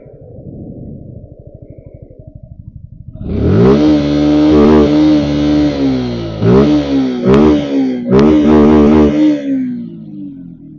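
A Suzuki Gixxer SF 150 motorcycle idles with a low, even putter, then its exhaust rises into loud, close revs, with several sharp throttle blips before settling back.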